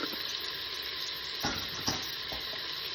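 Filet mignon browns in a Cookeo electric pressure cooker pot with herbes de Provence. A soft, steady sizzle holds throughout, faint and close, with a few light clatters and no talking.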